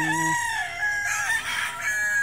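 Roosters on a small farm crow in overlapping calls, one drawn-out crow trailing into others that rise and fall, fairly close and steady with no talking.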